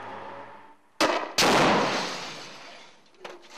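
Rifle fire from soldiers shooting at a sniper during a street search: two sharp, loud gunshots in quick succession, with a long echoing decay and a fainter report at the end.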